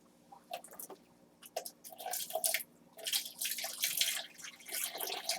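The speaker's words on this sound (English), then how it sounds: "I'm going to put some of their water in there." Water from newly arrived fish, for acclimating them, pours and splashes into a plastic container in uneven bursts, with drips and trickling in between, close by and fairly quiet.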